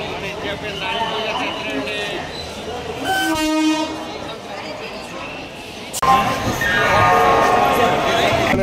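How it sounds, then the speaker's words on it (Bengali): A train pulls in at Howrah station's platform, its steady rumble and rolling wagon noise filling the scene, with a brief horn sounding partway through and a louder surge near the end, amid the murmur of a dense crowd. "এই ট্রেন আসছে আমাদের ওদিক দিয়ে।"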